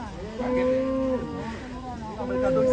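A large, agitated cow lowing loudly and up close in two long, drawn-out moos, with livestock handling noise and faint voices around it.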